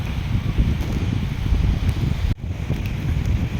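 Steady low, rumbling wind buffeting the microphone, continuous and fairly loud, with a brief dropout partway through.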